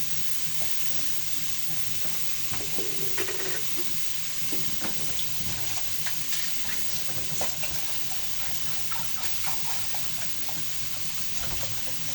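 Water poured into a pan of papaya and vegetables cooking on a stove, a steady soft sizzle and watery hiss with occasional light clatter, low and continuous, no talk.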